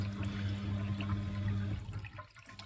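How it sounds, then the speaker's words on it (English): Water rushing steadily out of a Bosch WFK2801 washing machine against its glass door, a continuous close gushing flow over a low machine hum that thins and drops away near the end. "the water's coming out pretty fast at this stage"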